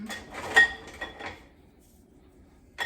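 A spoon stirs banana bread granola mixture with cinnamon and nuts in a bowl, giving a few close scraping clinks that fade into near silence before another scrape at the end.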